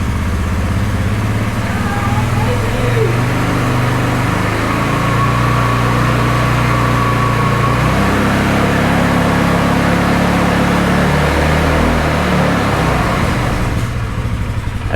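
A Polaris Sportsman ACE engine runs while the machine drives in gear, a loud, steady motor hum that shifts pitch partway through as it moves, with a faint voice briefly underneath.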